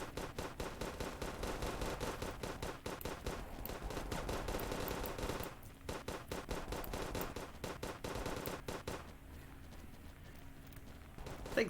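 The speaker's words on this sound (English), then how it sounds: "I just keep firing." Continuous rapid gunfire in a war video game, steady streams of close automatic shots with brief pauses, easing slightly toward the end.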